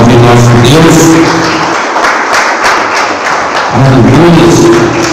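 A church congregation bursts into a short, loud wave of clapping between a preacher's spoken lines, filling the room for a couple of seconds before the voice returns.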